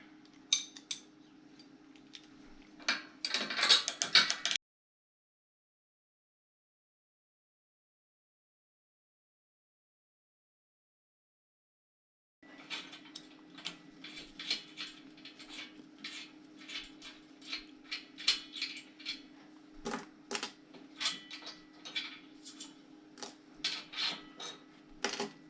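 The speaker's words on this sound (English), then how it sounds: "now we're gonna undo the flange and see what the copper gasket looks like" A Conflat ultra-high-vacuum flange with a copper gasket is unbolted with a tool, making close metallic clinks and small scraping ticks. The clinks come in a short burst, then a long silence, then a steadier run of irregular taps and rattles.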